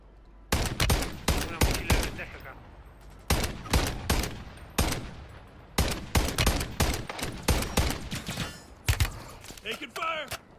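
Rapid bursts of automatic gunfire from the video game Call of Duty Modern Warfare II Warzone, loud and near, in repeated volleys with short gaps between them.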